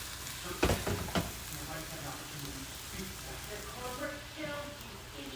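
Vegetables stir-frying for a Japanese-style veggie stir fry with soba noodles, a steady close sizzle with a couple of sharp clatters of stirring near the start, continuing evenly without talk.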